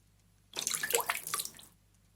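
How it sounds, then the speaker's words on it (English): A sampled water sound swells in and gushes for just over a second, a splashy, rushing burst like pouring or filling water, moderately loud against a low steady hum, then fades away. "Bunch of water."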